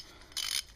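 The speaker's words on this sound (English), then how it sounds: "I am using a 22 millimeter oxygen sensor wrench." A 22 mm oxygen sensor wrench ratchets on a Nissan Titan exhaust during a header install, giving one short, close burst of rapid clicking with no talk.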